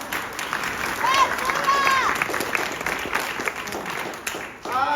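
A live audience claps at a Cinderella performance, a continuous wash of applause with whoops and a raised voice cutting through it, holding fairly steady before a brief dip and a renewed shout near the end.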